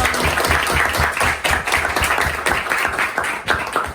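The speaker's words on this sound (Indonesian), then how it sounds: "Kita beri aplaus buat kita semua." A class applauding together in a classroom, loud, close and continuous clapping from many hands.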